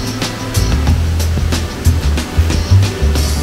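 The Tiritan waterfall at Doi Inthanon in Thailand gives a steady, loud, close rush of falling water throughout, with a few low thumps mixed into the roar.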